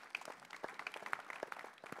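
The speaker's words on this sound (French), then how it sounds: "Je propose de vous applaudir." Thin, scattered clapping from the audience in a conference hall after a minister's talk at a public-sector artificial intelligence session, faint and uneven with distinct individual hand claps rather than a full ovation.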